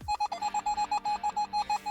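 Metal detector giving a strong, steady signal over a target near the surface while searching for coins, sounding as a rapid run of evenly pulsed mid-pitched electronic beeps with no talk.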